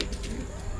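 Racing pigeons coo softly in a brief, faint stretch against a steady background hiss, with no clear talk over them.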